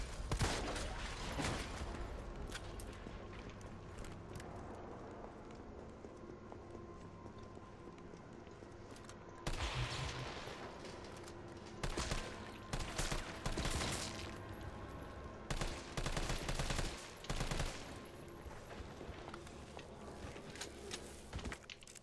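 Gunfire in the survival horror game Resident Evil 3 rings out as rapid bursts of shots, loud and clustered in several volleys across the stretch, mixed with game sounds and no talk.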